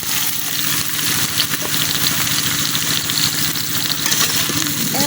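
Cauliflower florets go into a pan of lightly fried onions, giving a loud, steady sizzle with faint rhythmic scraping throughout.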